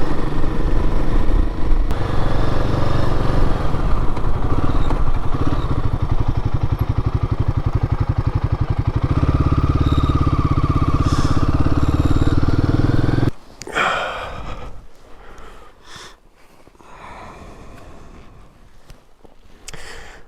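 A Himalayan 450 motorcycle rides rough back roads in the mountains, its engine a loud, steady drone under rumbling wind noise. The drone drops away abruptly into quieter scattered clatter.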